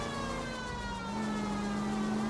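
In L.A. Noire, a police car's siren holds a steady wailing tone over the rumble of a driving car, close and continuous, with no one speaking.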